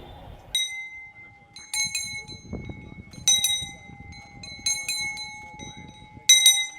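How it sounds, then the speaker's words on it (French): Bells ringing beside traditional chiefs and their guards at a ceremony in Douala, Cameroon: bright metallic strikes come in repeated clusters with long ringing tones, over a low murmur of crowd noise and movement. "Ils sont accompagnés par le son des cloches et des gardes."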